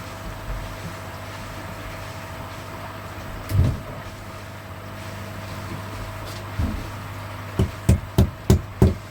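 Hammer blows ring out, a couple of isolated strikes, then a quick run of five steady knocks near the end over a low hum.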